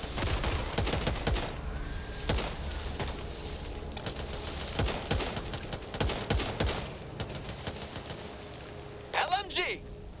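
Light machine gun fire in Back 4 Blood: sharp, rapid bursts of close automatic shots in irregular clusters, with a voice calling out briefly near the end.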